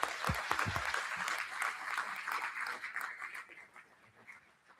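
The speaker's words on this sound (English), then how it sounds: "let's give a warm round of applause for Moaz." Applause at a school board meeting, a quiet room of people clapping steadily that gradually thins and fades out over a few seconds.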